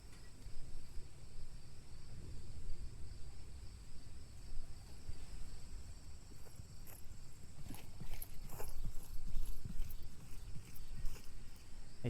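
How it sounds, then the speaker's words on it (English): Footsteps in the VR shooter Onward during a competitive match come as a steady, rhythmic patter of soft steps. They sit fairly faint over a constant insect-like ambient hum, with no talking. "Lightshaper may be hearing those footsteps."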